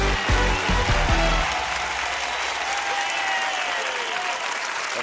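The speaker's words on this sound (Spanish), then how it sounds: "¡Un aplauso!" Sustained studio audience applause on a live television game show, dense clapping throughout, with brief musical tones and a few low thumps at the start.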